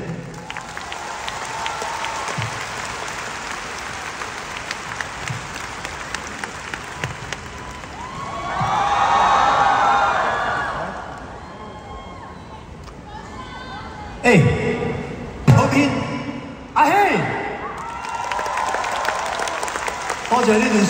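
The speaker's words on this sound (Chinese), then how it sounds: "再一次掌声给他们。" Concert audience at a show in Kuala Lumpur applauds, a steady wash of clapping swelling into a louder cheering surge midway, then breaking into sharp bursts of claps and shouts near the end.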